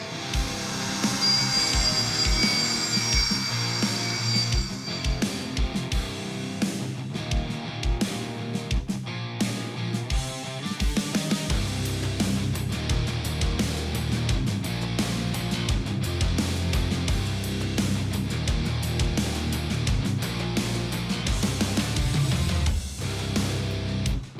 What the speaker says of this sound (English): You can see how nice and clean that little bench sander really made this easy